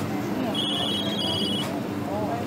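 A telephone rings in the Food Truck Simulator game with a bright, repeated electronic trill in two short bursts, heard under someone talking and steady game background noise.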